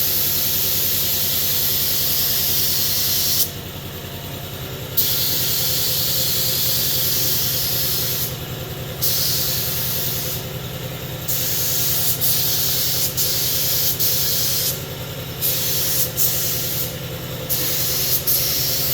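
A spray gun lays clear coat onto a car panel in a loud, close, steady hiss, cutting off briefly several times between passes and resuming, with no voices.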